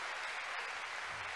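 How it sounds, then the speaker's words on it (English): Church congregation clapping their hands in praise to God, a faint, steady wash of many hands heard from a distance. "Let's clap unto God and appreciate him."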